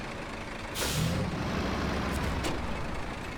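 An air brake on a truck in the video game SnowRunner lets out a loud, sustained hiss over an idling engine, followed by a second, shorter release hiss a moment later.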